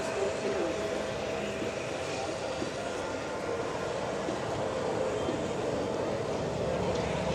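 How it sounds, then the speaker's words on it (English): A Douglas DC-6 airliner making a final low pass at an airshow before positioning to land on runway 18, its piston engines droning loudly and continuously under a faint background announcement. "This is a last pass for the DC-6 with the crest to position to land 18."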